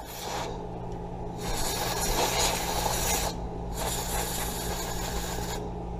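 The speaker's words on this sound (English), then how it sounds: "So we'll just go ahead and give a little spray in those sort of areas" Canned air blasts alcohol out of holes in a 3D-printed SLA resin part, two loud hissing bursts of about two seconds each over a steady low hum.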